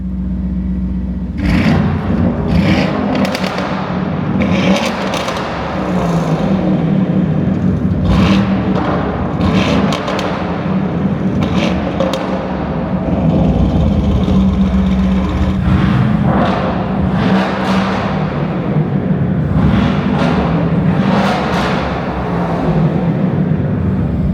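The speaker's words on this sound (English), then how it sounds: "at least do the exhaust system because it sounds absolutely sick" A Lamborghini Urus SE with a Novitec aftermarket exhaust revs repeatedly, loud aggressive bursts of exhaust rising and falling over a constant deep rumble, close by.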